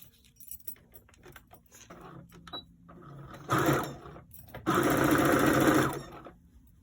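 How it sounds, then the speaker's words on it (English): Sewing machine stitching around the edge of a handmade reversible bag, short bursts of rapid stitching separated by pauses and small handling clatter, close and moderately loud. "I am going to sew all the way around."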